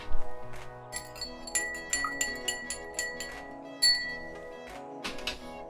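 A spoon stirring a martini with orange bitters in a glass, giving light repeated clinks and ringing taps at an irregular pace, close and clear with no talking.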